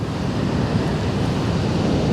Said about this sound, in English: I think the wind's picking up.